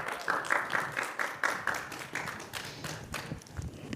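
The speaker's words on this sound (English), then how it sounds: "Round of applause for Terry." Studio audience applause greeting a meteorologist onto a talk-show stage, a brisk run of hand claps and taps at moderate level, steady for a few seconds.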